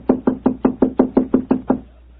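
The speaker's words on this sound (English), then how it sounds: "I'll knock again." Knuckles rap on a hotel room door nine times in an even, steady rhythm. The solid knocks are close and loud, then stop into quiet.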